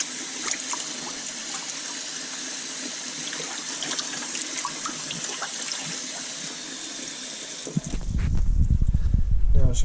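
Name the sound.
tap water running into plugged sink to soak salted Arctic char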